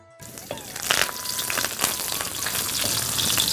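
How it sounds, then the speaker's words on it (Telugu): Cumin seeds and curry leaves hit hot oil, the sizzle bursting up sharply after a brief quiet start and then holding as a loud, crackling hiss with spits and pops, close up and without talk. "చూడు నూనె కాగిందా ఇక జీలకర్ర ఇక కరివేపాకు"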